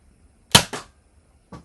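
A Nerf Sharpfire foam dart blaster fires with a sharp snap and a quick follow-up thwack, then one more softer pop a second later.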